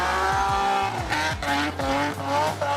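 A 330-horsepower 3.7-liter VQ six-cylinder car engine revs repeatedly in quick, rising bursts with a raspy, harmonic-rich tone, close and loud, with no talking.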